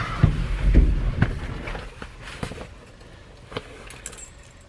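Keys jangle close by in the cab of a 1963 Chevy C30 truck, a few metallic clinks and rattles over faint background noise and soft handling sounds.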